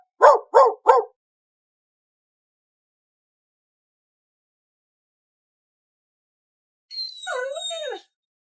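A dog sound effect in a drama scene: three quick, sharp barks in a row, a long silence, then a single drawn-out wavering howl, clean and isolated.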